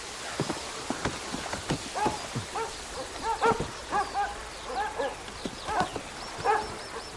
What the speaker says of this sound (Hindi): इन लोगों के कुत्ते बहुत जोर से भौंकते हैं